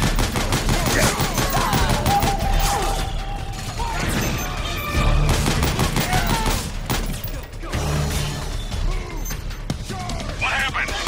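Sustained automatic gunfire in Metal Gear Solid 4, loud rapid bursts and crashes from a firefight, with shouted voices over the shooting.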